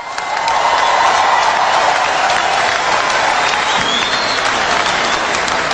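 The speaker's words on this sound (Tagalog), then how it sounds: "Dinadaig lang po sa maraming palakpak." A large audience at a religious gathering breaks into sustained, dense applause that holds steady and loud throughout, with no voices standing out above the clapping.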